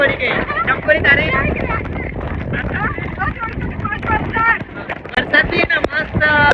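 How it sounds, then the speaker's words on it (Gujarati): Gusty wind with rain buffets the microphone on Bhanbha hilltop, a loud rumbling roar that rises and falls throughout while people talk over it. "વરસાદ બી ને મસ્ત પવન બી આવતો છે."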